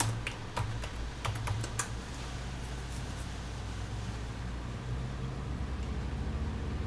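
Quick bursts of typing on a computer keyboard, close and fairly crisp, with clustered keystrokes early on and then a steady background hum, no talking.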